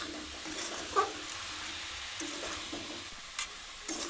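Coconut filling with sugar being stirred in a pan as the sugar releases liquid, a soft steady scraping over a faint sizzle with a few light clinks of the spoon, close and fairly quiet.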